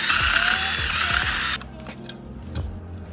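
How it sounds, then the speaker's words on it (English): A ratchet is turned with a fast, rough whirr while taking screws out of a car headlight projector. It runs loud and close for about a second and a half, then stops, leaving a few faint clicks. "To do that, we're just going to take these 4 screws out here."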